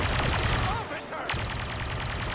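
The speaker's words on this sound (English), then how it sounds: "Takes a while for this gun to vent." Blaster fire in Star Wars Battlefront II, a rapid run of shots with a brief gap before the burst resumes, busy game sounds behind it.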